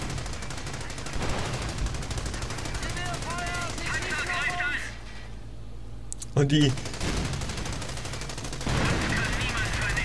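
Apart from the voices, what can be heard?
gunfire in a video game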